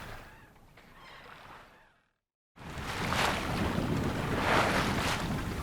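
A sailboat beating against the tide off the English coast, with wind rushing loudly across the microphone and waves washing along the hull, briefly dropping to near silence before the gusting roar returns stronger.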